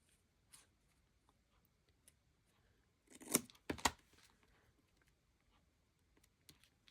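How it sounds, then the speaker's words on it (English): Paper torn and snipped by hand for a collage, heard as a few brief crackling rips and cuts close by, with a louder burst in the middle and quiet pauses between. "Okay, tear this. Cut this."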